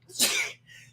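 One sharp human sneeze bursts out close by, a quick harsh blast followed by a softer breathy tail.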